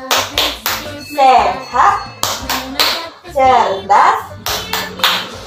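Young children in a preschool class clap their hands in short rhythmic bursts as they chant together, with the claps falling in a quick, regular pattern between the spoken lines.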